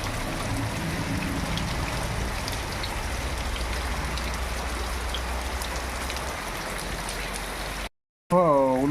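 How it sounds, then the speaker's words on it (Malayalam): Steady rain pours down, a dense even hiss of drops on surfaces that runs without pause, then cuts out abruptly near the end before a brief whining tone. "ഇപ്പൊ നമ്മൾ വീഡിയോ ആക്കുമ്പോ മഴ ലെസ് കുറവുണ്ടായി"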